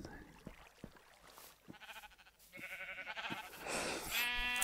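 Sheep bleating inside Minecraft, a few short in-game bleats rising near the end over background game noise, with someone talking through much of it.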